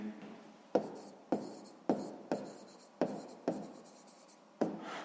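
A pen writes on paper during sixth-grade maths homework, with about seven sharp, distinct strokes and scratches in an uneven rhythm, close and quiet.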